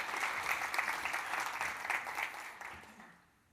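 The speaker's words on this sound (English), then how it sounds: "Let's give a warm round of applause." An audience at a law software conference applauds a presenter coming onstage, a full, steady round of clapping that gradually thins and fades toward the end.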